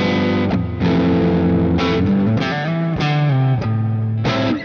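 Electric guitar played through a combined overdrive and booster pedal, with loud, saturated distorted chords and riffs sustained in short phrases broken by brief gaps, and no voices.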